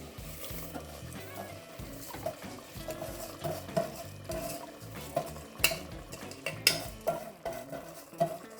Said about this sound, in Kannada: ಸೊ ಇವಾಗ ನಾನು ಆವಾಗಲೇ ತೊಳೆದಿಟ್ಕೊಂಡಿರುವಂಥ ರೈಸ್ನ ಇದಕ್ಕೆ ನಾನು ಮಿಕ್ಸ್ ಮಾಡ್ತಾಯಿದ್ದೀನಿ